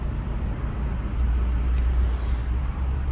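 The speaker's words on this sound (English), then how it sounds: "Can you see the cars on the interstate in the background going by?" Steady road noise from cars passing on a nearby interstate, heard from an RV resort in Jacksonville, Florida, as a continuous low rumble and hiss with no talking.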